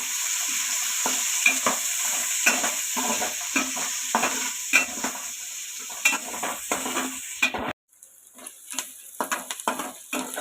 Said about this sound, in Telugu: ఉల్లిపాయలు వేసేసుకున్నాం కొంచెం ఉల్లిపాయలు వేగిన తర్వాత అప్పుడు టొమాటో వేస్తుంది